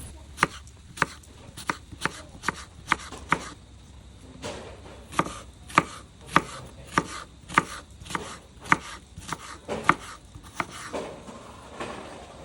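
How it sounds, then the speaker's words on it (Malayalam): Repeated knife chops cutting apple into small pieces on a board for a sago summer drink, a steady run of sharp, close, evenly spaced strikes with a short pause midway. "ആപ്പിളൊക്കെ അരിയുമ്പോൾ ഇതേപോലെ അരിയാൻ നോക്കുക."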